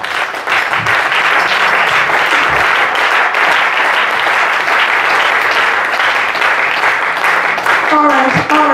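A church congregation claps in a steady, even burst of applause that carries on throughout, with a brief spoken voice breaking in at the very end.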